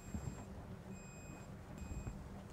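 Simrad Command integrated control system aboard a Pirelli 42 boat sounding a fault alarm for a tripped toilette fuse, three evenly spaced high electronic beeps over low engine and water rumble.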